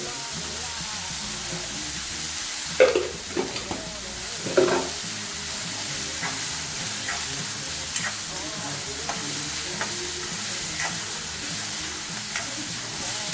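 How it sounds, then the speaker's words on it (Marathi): Chopped onion sautéing in a pan for a brinjal masala, a quiet, even sizzle with a couple of louder spatula scrapes early on and faint stirring taps after, no speech. "कांदा आपला असा मस्त परतून घ्यायचा"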